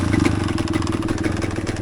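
A 1988 Yamaha DT200 two-stroke enduro motorcycle runs close by in winter, its engine giving a steady, rapid buzzing pulse with a slight swell at the start.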